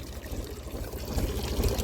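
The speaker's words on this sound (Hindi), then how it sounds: "अब वहाँ पानी चल रहा है, वहाँ पूरा भर जाएगा वो।" Irrigation water pouring and trickling into the furrows of a mustard field, a soft, close, steady gurgle with a low rumbling undertone and no speech.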